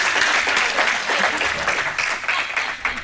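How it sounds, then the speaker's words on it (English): Applause from an audience at an NHS research conference, a dense continuous clapping that fills the room for the whole moment, steady and fairly loud with a few cheers mixed in. "I think a round of applause."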